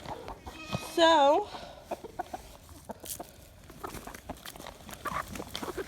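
Chickens in a bare winter pen cluck sporadically, with a short rooster-like call near the start, amid rustling and footsteps and a brief spoken word.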